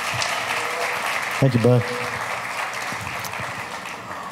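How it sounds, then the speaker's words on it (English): Warm audience applause at a Father's Day gathering, steady crowd clapping at moderate volume throughout, with someone briefly speaking over it midway. "Would you give a nice warm round of applause"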